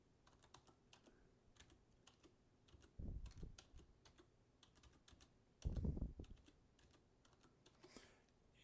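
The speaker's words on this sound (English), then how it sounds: "I'm going to type in." Keys tapped on a computer keyboard while entering an employee login, quiet scattered keystrokes with two louder bursts of thumping presses, no voices.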